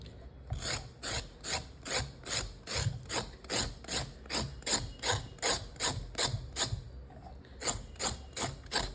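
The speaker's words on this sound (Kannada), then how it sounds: "ಇಲ್ಲಾಂದರೆ ಬರೀ ಚಾಕು ಇದೆ ನಮ್ಮ ಹತ್ರ, ಹೆರಿಯೋಕ್ಕೇನು ಇಲ್ಲ ಅಂದರೆ ಈ ಥರ ತೆಗೆದುಬಿಡಿ" A knife scraping the skin off a ridge gourd, a rapid, even run of rasping strokes, about two per second, heard close and alone.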